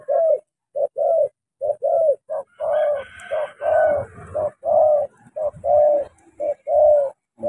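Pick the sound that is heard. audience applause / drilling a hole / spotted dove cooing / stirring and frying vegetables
spotted dove cooing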